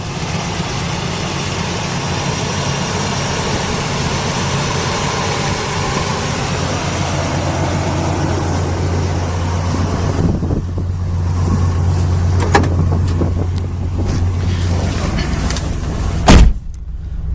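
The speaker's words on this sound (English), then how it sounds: "The 350 engine runs excellent." A 1978 Chevy Camaro LT with a 350 V8 and 700R4 automatic runs at a steady idle, a continuous engine drone throughout, with a few sharp knocks and a door-like thud near the end.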